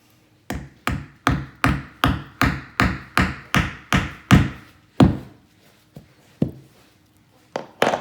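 Series of about eleven sharp hammer taps driving a glued wooden dowel into a wood screw hole, evenly spaced at first, then a few scattered louder knocks, close and clear with no talking.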